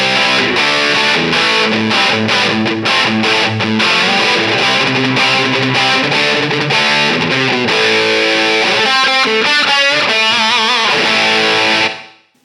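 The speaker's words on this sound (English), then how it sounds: "even with the gain just above 0 there, we get this nice fat crunch." Electric guitar crunch through a Diezel VH Micro amp at low gain, played as dense strummed chords and riffs, loud and sustained throughout before cutting off abruptly at the end, with no talking.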